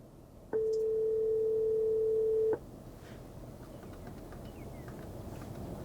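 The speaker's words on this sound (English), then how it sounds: "Let's make a phone call with Siri" A phone call placed through the CarPlay system in a 2015-2018 Toyota Avalon produces one loud, steady ringback tone lasting about two seconds, followed by quieter cabin background.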